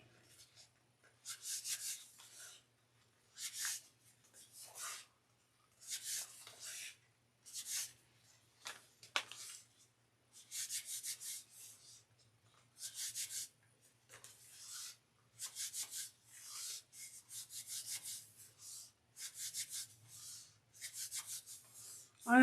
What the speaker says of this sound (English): I'm just rubbing to make sure the tape is nice and adhered.